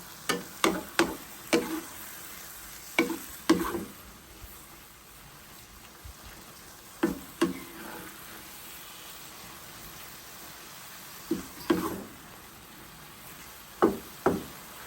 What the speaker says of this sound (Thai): ผัดไปเรื่อย ๆ ค่ะ